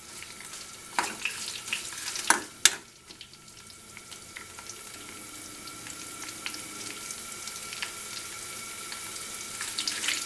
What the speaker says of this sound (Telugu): దీన్ని మనం ఇట్లాగా కరివేపాకు కూడా వేసాం కదా, ఇట్లా మనం దీన్ని ఫ్రై చేసుకోవాలి.